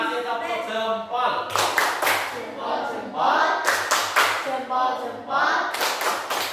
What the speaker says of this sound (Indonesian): Lagi kasih tepuk jempol.